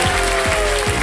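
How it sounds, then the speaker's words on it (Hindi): A studio audience on Kaun Banega Crorepati bursts into loud, dense clapping that fills a short burst, close and steady. "तालियां बज जाए इनके लिए जोरदार।"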